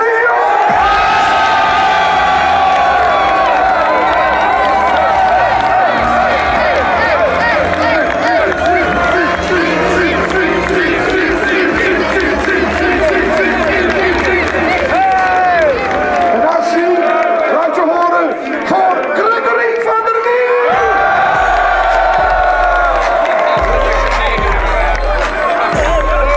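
At a 2011 Ajax versus FC Twente football match, a large stadium crowd cheers and applauds loudly and without a break, with whoops rising over the roar and a public-address announcer talking through it.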